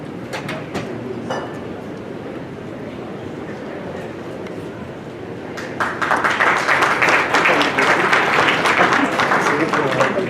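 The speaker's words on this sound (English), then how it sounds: "We have a welcoming applause for you." At a cultural event, an audience breaks into loud, sustained clapping to welcome a guest. Talk and light sounds in the room come first, then the applause swells halfway through and keeps going to the end.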